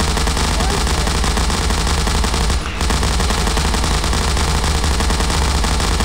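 Sustained automatic gunfire from the video game Garry's Mod, a loud continuous rapid-fire rattle throughout with only a brief gap partway.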